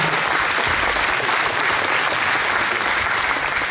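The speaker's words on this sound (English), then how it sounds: "Can we please give Director Weinman applause for coming on the" A crowd at a veteran fair in a wartime museum bursts into sustained, even applause for a state veterans affairs director, loud and unbroken for several seconds without speech.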